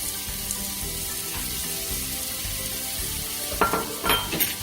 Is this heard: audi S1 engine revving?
no